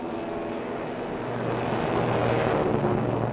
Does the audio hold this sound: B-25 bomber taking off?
yes